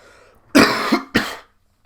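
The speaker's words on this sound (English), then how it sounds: "you might have heard that was a bad cough" Two harsh, loud coughs close to the listener, the first rough and drawn out, the second short, then silence.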